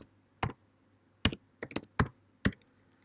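Computer keyboard key presses ring out as about seven sharp, separate clicks at an irregular typing pace, close and clear over a quiet background with a faint low hum.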